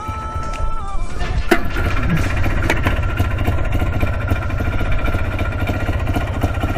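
Cheap 4x4 quad ATV engine pull-started: a short cranking burst catches and settles into a loud, close, steady idle with a rhythmic throbbing chug.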